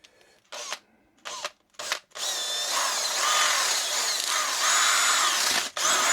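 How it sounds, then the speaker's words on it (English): A few short bursts of a power drill, then a long continuous whine as the drill runs steadily before stopping near the end, outdoors on a narrowboat roof. "so let's just drill"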